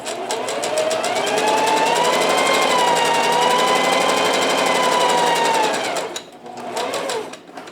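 A sewing machine runs a long, steady straight stitch along the side of a fabric mask, loud and continuous for about six seconds, then pauses briefly and whirs again in a short burst.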